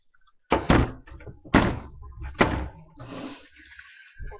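Several sharp taps on the lid of a shaken Coke bottle, three strong knocks in slow succession followed by a burst of softer rattling, close and fairly loud with no voices.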